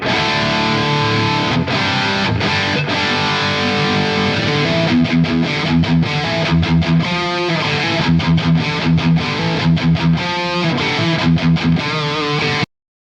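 A heavily distorted electric guitar, a Telecaster through an M-Vave Tank-G effects unit, plays crunchy, thick chords and palm-muted chugs, with stop-start rhythmic stabs and brief gaps between phrases.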